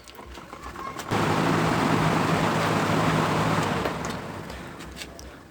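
A single-phase bivolt motor fan switches on and spins in reverse with a sudden steady whirring hum and rushing air, holding for about three seconds before winding down.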